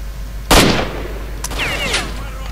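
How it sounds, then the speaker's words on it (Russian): A single sharp gunshot from a Kalashnikov rifle in the video game STALKER: Shadow of Chernobyl, one loud crack with a short decaying tail, followed by a faint click and a brief voice. "Один патрон выстрелил."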